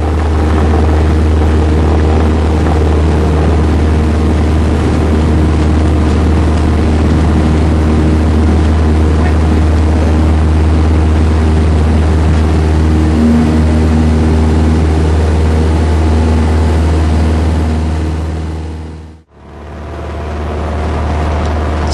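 Small propeller plane on a short jungle airstrip, its engine roaring loud and steady for about twenty seconds before a brief sudden dropout, then the drone resumes at full strength.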